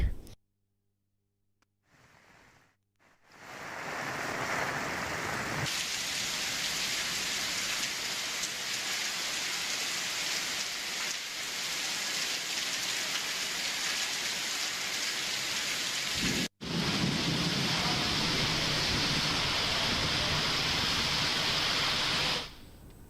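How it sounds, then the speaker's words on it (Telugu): Heavy unseasonal rain pours down in Udayagiri, Nellore district, a loud, steady hissing downpour that fills the scene after a quiet start, with a brief cut partway through and no talk. "కొద్దిసేపటికే ఉరుములు మెరుపులతో కూడిన భారీ వర్షం దంచుకొట్టింది."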